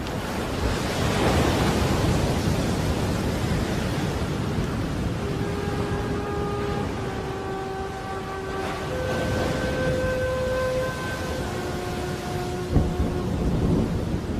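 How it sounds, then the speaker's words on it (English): Tropical cyclone lashing the sea off Christmas Island, with loud, continuous surf and wind roar and low thunder-like rumbles, while faint sustained tones drift over the storm in the middle and a sharp thump comes near the end. "Christmas Island has caught the edge of a full-blown tropical cyclone."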